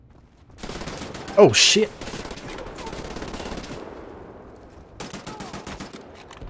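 Rapid automatic gunfire in the shooter game Wolfenstein: The New Order rattles in several bursts, with one sharper nearby blast, while a player exclaims over it.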